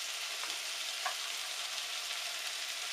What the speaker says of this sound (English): So now I'll add my onions to it